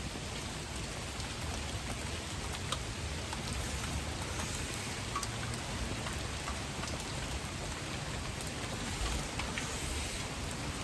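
Steady rain falls outdoors around a lone smoker, a dense, even hiss of drops striking surfaces close by that holds unbroken from start to finish with no voices.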